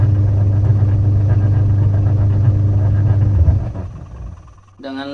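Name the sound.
repaired washing machine spinning again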